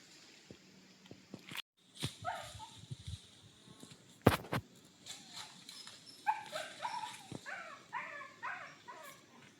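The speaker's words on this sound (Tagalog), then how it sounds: "Umiiyak ang aso." A dog whimpering in a forest area, soft high-pitched whines and short yelps coming in scattered bursts, fairly quiet, with some rustling and handling noises around them.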